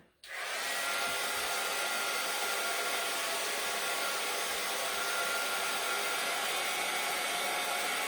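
A hair dryer blows steadily and loudly on a green-painted wooden gingerbread shelf sitter, switching on abruptly at the start and holding a constant broadband whoosh for the rest of the clip with no talking.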